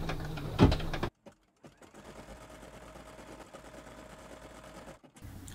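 An embroidery sewing machine stitching a snow globe ornament design starts up after a brief click and pause, then runs in a steady, fast, close mechanical chatter before a short stop at the end.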